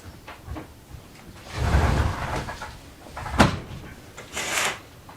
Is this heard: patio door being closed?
yes